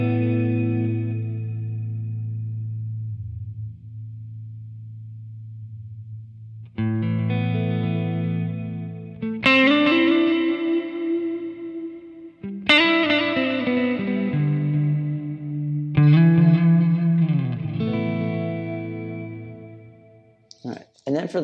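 Sustained electric guitar notes and slow bends through a Lekato TANK-G modeler's analog delay and reverb ring out with echoing delay repeats and a reverberant wash between phrases.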